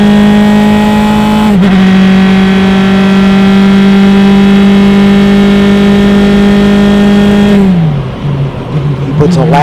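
Race car at an SCCA Mid Ohio sprint race roaring past at close range, a loud sustained high-revving engine drone that shifts pitch twice, with commentary voices underneath.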